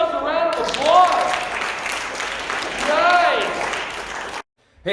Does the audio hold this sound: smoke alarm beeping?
no